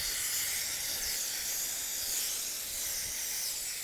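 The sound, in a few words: water spray rinsing a dog's tail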